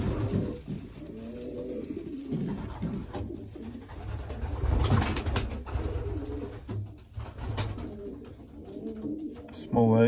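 Racing pigeons coo in repeated soft, throaty rolls close by, several birds overlapping steadily in a loft, with a louder burst near the end.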